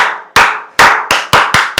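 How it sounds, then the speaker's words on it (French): Six sharp hand claps in an uneven rhythm at the end of a full-body workout, loud and close, with brief ringing decay between them. "On s'applaudit"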